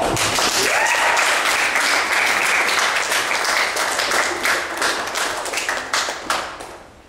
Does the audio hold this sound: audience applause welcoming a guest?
yes